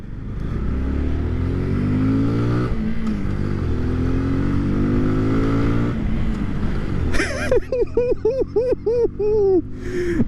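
A 2020 Kawasaki Z125 Pro motorcycle engine hums steadily while riding, then revs up and down in a series of rising and falling pulls toward the end, loud and close.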